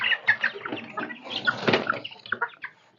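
Chickens cluck and flap their wings inside a pigeon loft, close and fairly busy. Short, overlapping calls and rustles carry on without a break for a few seconds, and no one speaks.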